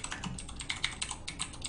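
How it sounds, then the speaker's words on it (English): Rapid, irregular clacking of Chandler's typewriter keys, close and moderately loud, a steady patter of sharp strikes with no talk over it. "That's Chandler's typewriter."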